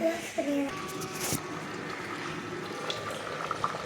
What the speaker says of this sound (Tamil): இப்போ நல்லா கொதிக்குது. நல்லா கொதிக்குது.